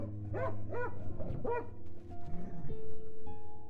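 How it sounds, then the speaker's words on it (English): Savage yelping and barking of a large watchdog, several sharp rising yips in quick succession followed by whimpering tones, close and loud with a faint tonal hum beneath. "Armitage heard the savage yelping of the great watchdog"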